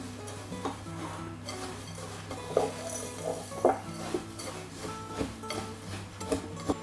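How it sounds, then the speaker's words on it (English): Wet ingredients being stirred into a granola bar mixture in a bowl, giving soft scraping and clinking knocks at an uneven rhythm over a steady low kitchen hum, with no talking. "we're going to stir it all together"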